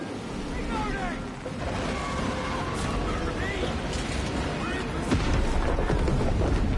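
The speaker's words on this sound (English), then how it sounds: "Detonate the charges now." Explosive charges detonate against a hive Tyrant in a video game, a sustained rumbling roar of blasts with a heavier boom about two-thirds through, layered with game effects.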